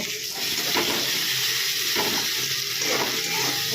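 Chicken and paste stirred in a hot frying pan, giving a steady, even sizzle with soft scraping strokes of a spoon underneath, close and continuous with no talking.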